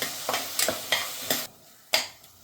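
Capsicum cooking in a pan with salt and turmeric, heard as a run of scraping stirs at an uneven rhythm over a light sizzle, close and fairly quiet, with no talk.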